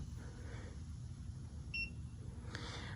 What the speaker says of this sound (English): You hear the little beep and the light is on.